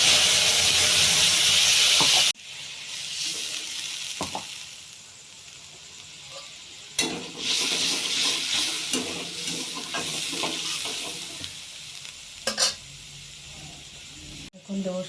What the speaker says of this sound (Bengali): আমি এখানে দেব আদা, কাঁচা লঙ্কা, জিরে, ধনে বাটা দিয়ে দিচ্ছি